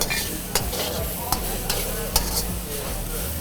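Potatoes stir frying in a pan over a weak burner, with a steady sizzle and several sharp clanks and scrapes of a utensil stirring through the pan.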